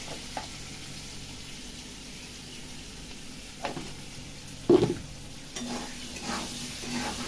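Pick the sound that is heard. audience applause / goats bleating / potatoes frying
potatoes frying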